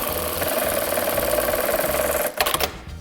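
An industrial sewing machine runs a programmed 25 mm bar tack, giving a fast, steady mechanical whir and chatter that ends in a few sharp clunks as the cycle finishes.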